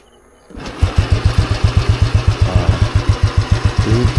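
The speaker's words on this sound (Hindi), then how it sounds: "this is how you kick the bullet perfectly without touching the accelerator, without touching anything." A Royal Enfield Bullet motorcycle is kick-started without the throttle and settles at once into a loud, steady thumping idle. The even single-cylinder beats carry on alone to the end.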